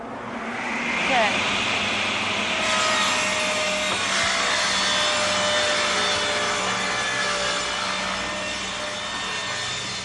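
A table saw rips a sheet of plywood guided along the fence, a steady whining cut with a brief scrape near the start, then a sustained loud blade hum and buzz as the stock feeds through.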